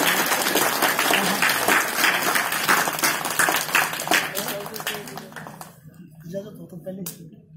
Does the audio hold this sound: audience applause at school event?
yes